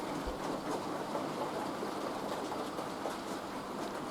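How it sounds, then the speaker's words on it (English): A Palitoy BR Standard 4 model locomotive with extra lead ballast hauls a modest load, giving a steady, continuous rolling rumble and rattle that stays even and close throughout. "this locomotive would take far more than this modest little load that it's hauling at the moment"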